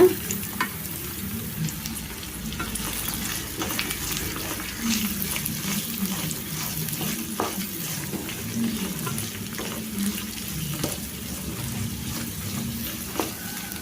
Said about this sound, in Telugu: ఇప్పుడు దీంట్లో క్యాబేజీ వేసుకోవాలి ఒకసారి కలిపేసుకోవాలి